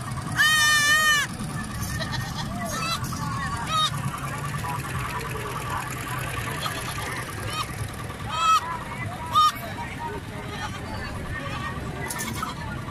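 Goats with newborn kids at a farm in Dera Ghazi Khan, with an early loud bleat, then several shorter bleats scattered over a noisy yard background.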